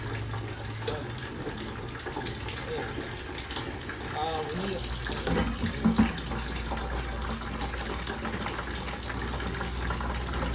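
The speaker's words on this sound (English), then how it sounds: "We're just gonna put a shark bite on to stop this water flow" Water rushes steadily from a cut water heater pipe, a loud continuous hiss and gush close by, with people talking over it.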